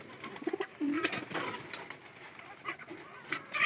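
Pigeons coo softly in short, repeated throaty calls at a moderate distance, alongside faint wing rustles and background bird sounds, with no speech.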